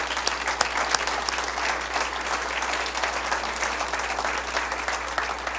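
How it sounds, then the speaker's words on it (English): Audience at a township presentation applauding steadily, a dense, even wash of many hands clapping at a consistent moderate level throughout. "Let's give her a round of applause."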